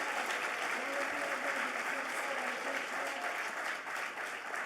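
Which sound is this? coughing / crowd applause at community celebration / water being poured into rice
crowd applause at community celebration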